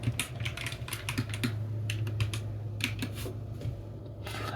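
Close, quiet tapping of keys on a computer keyboard in bursts of rapid clicks with brief pauses, soft and intimate in an ASMR setting.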